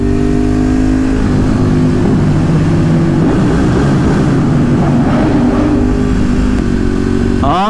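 A Ducati 848 EVO motorcycle rides through road tunnels on Mulholland's canyon roads, its engine droning loud and close without a break, the exhaust echoing off the tunnel walls as the revs rise and fall slightly.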